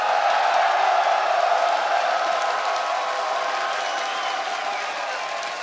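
An arena crowd at a League of Legends North American regional final roars in a dense, sustained wash of cheering and whoops that slowly tapers off over several seconds.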